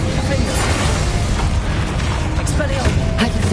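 A dense, rumbling blast from the Bombarda explosion spell in the video game Hogwarts Legacy, filling the moment with a loud, sustained boom and crackling debris, with a voice speaking over it.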